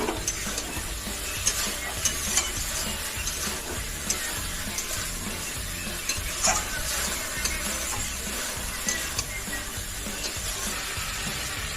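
Bengali-style spice paste sautéing for an ilish fish curry after a splash of water, a steady close sizzle with stirring scrapes running throughout and small spatters popping through, no voices.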